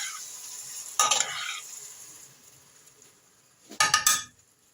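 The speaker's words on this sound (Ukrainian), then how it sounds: "А тим часом я натерла помідори на терці і виливаю все і розмішую." Grated tomatoes poured into a pot of vegetable stew with eggplant and stirred, two brief bursts of wet scraping and spoon clinks close by, separated by a soft steady bubbling hiss.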